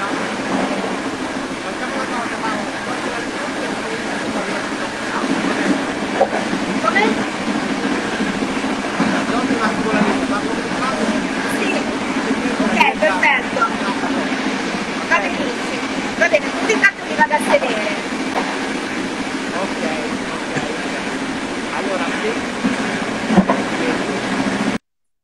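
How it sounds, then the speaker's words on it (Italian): Steady rumbling train noise with rattling wheels runs throughout, loud and continuous, with occasional sharp clicks. "sento il rumore del treno"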